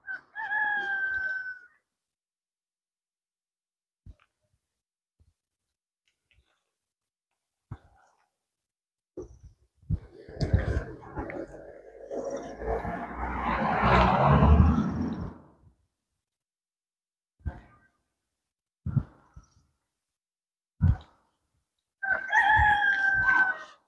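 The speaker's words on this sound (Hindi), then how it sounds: "मुर्गे बोल रहे हैं जी इधर" Roosters in a village in Italy crow several times, loud calls at the start and end with a long, noisier crowing burst in the middle, separated by quiet gaps.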